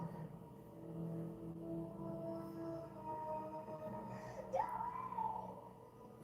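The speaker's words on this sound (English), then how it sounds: "Sydney screaming for Dewey." A woman screams in a scene from the horror film Scream 3, a faint, drawn-out wailing cry over low muffled film audio, rising into a sharper shriek near the end.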